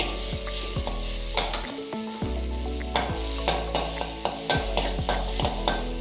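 Butter melting in a pan for pav bhaji, a steady close sizzle broken by regular stirring scrapes and taps throughout.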